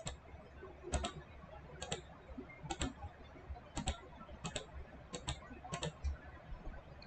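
Computer keyboard typing and mouse clicking, close and fairly quiet, in short clustered bursts of sharp clicks at irregular intervals over a low room hum, no talking.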